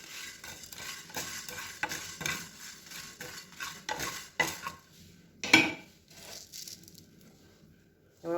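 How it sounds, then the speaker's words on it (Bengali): Dried red chillies and coriander seeds are stirred as they fry in a pan for spicy mango pickle, with soft scraping and rustling strokes that come in irregular bursts at low volume. "শুকনো লঙ্কাটাও খানিকক্ষণ নাড়বো, নাড়াচাড়া করবো"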